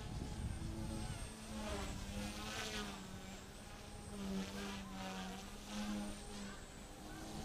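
A small Align T-REX 150 RC helicopter's high-pitched whirring buzz hovers steadily nearby, rising and dipping slightly in pitch, with voices chatting over it.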